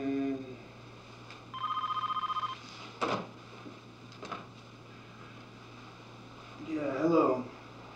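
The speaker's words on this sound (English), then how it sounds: "Answer the fucking phone." A telephone bell rings in a short burst of rapid trills, fairly loud against a quiet room, followed by a few knocks and a voice speaking near the end.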